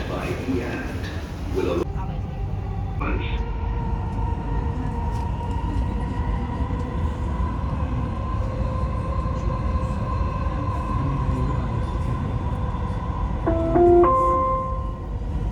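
A Dubai Metro train rumbles at a station platform, a steady loud roar with a high whine, as doors thud and a short chime sounds near the end, while someone talks.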